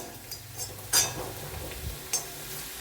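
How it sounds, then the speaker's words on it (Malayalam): Ingredients fry in a pan over a raised flame with a soft, steady sizzle, interrupted by a few light stirring scrapes and clinks close by; no voices. "ഫ്ലെയിം ഒന്ന് കൂട്ടി വെച്ചിട്ട് വറുക്കാം"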